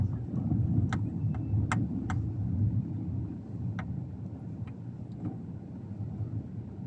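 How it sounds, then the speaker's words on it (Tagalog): Car in slow EDSA traffic, a steady low engine and road rumble close by with faint wind noise, occasional brief higher clicks or chirps, no talking. "Traffic na sa EDSA."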